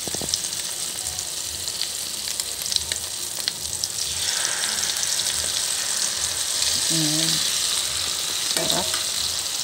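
Chili garlic oil fries in a pan, a loud, steady close-up sizzle with the clatter of stirring, and a couple of soft tonal beeps near the end.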